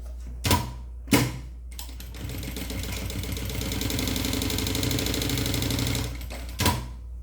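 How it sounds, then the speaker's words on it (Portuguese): An electric sewing machine stitches a pouch made from a milk carton, starting with two short bursts, then running a steady rapid mechanical rattle for about four seconds before a final brief burst. "costuro mais um pedacinho e dou um retrocesso"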